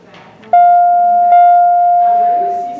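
An OTIS Series 1 LVM elevator chime rings out loud and close in a store, two clear sustained tones struck in succession, with faint murmuring before them.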